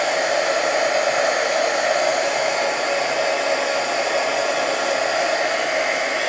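Steady, loud whoosh of a heat gun melting embossing powder for an intaglio printmaking plate, running continuously without pause and with no talk over it.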